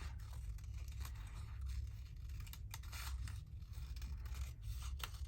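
Scissors cut out a paper card image with a printed Victorian-style border, quiet snipping and scraping strokes repeating steadily throughout, close but faint over a low background hum.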